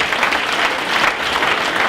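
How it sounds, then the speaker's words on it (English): Loud, dense audience applause fills a keynote dinner hall, continuous clapping from a large crowd with no break. "Once again, let's give them a big round of applause."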